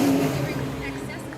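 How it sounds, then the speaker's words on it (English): Classic car with a glass pack muffler rolling by in a Fourth of July parade in Coronado, a low rumbling exhaust drone that fades slightly as it passes. "Sounds like a glass pack muffler set up there."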